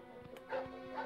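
A short, faint dog yip sounds from the Bugs Bunny PS1 video game, a quick small bark or two over a steady background tone.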